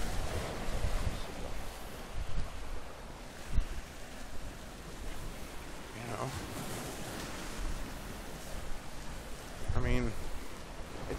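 Waves break and wash along a shore, a broad rushing surge with wind buffeting the microphone and a few brief louder splashes.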